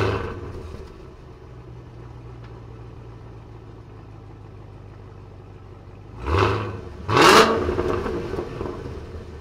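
A 2022 Cadillac CT5-V Blackwing engine hums low at cruise, then roars through two sharp bursts of acceleration near the end, loud and close from the cabin, with no talking.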